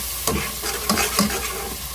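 Masala is stirred and roasted in a pan, a steady sizzling hiss with a few soft scrapes of a spoon over roughly two seconds, close and even.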